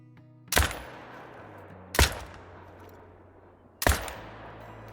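Three loud, sharp hunting rifle shots from the Call of the Wild video game, each a sudden crack with a decaying echo tail, spaced roughly every one and a half to two seconds over a low ambient hum.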